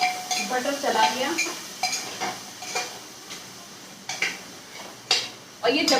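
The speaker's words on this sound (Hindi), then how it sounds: "बटर चला दिया।" Butter is stirred in a metal pressure cooker while making vegetable biryani. A spoon scrapes and clinks against the pot in irregular strokes, close by, with a faint voice briefly at the start.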